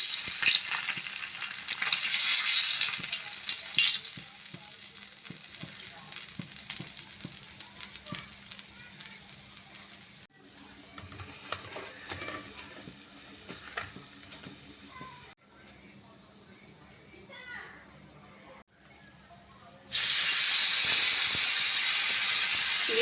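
Pomfret fish pieces fry in oil with a steady sizzle and crackle, the level shifting between louder and quieter stretches and ending in a loud burst of hiss.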